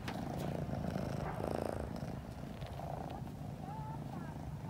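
A cat purrs close up in a low, steady, rhythmic rumble that lasts throughout, with a faint voice in the background.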